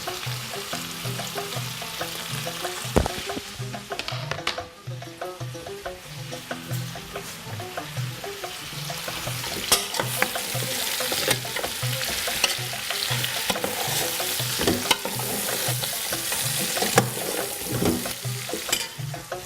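Five chopped onions and five cloves of garlic frying in a pan with browned meat, giving a loud, steady sizzle broken by repeated scraping and stirring strokes throughout.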